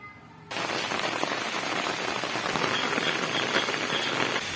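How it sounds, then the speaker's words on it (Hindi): Steady rain pours down, a dense hiss of drops spattering on surfaces, starting abruptly after a brief quiet moment and continuing evenly. "बहुत ही प्यारा मौसम हो रखा है, रात से बारिश हो रही है।"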